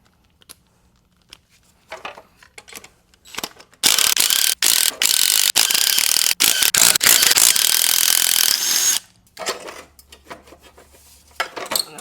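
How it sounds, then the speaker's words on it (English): Ratchet wrench clicking steadily while backing out 13mm bolts on a second-generation MINI Cooper exhaust manifold, with a long loud burst of rapid clicks in the middle and a few softer short bursts before and after, close up. "Now we can get these two lower 13mm bolts out."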